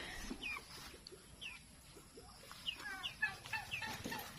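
Chickens cluck softly in the distance on a farm over a steady background hiss, with a few higher chirps scattered throughout.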